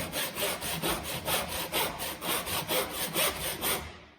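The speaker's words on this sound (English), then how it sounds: "then just gently saw your piece of pine" A hand saw cutting through a piece of pine, about a dozen even back-and-forth rasping strokes in a steady rhythm, close and clear with no talking, ending abruptly.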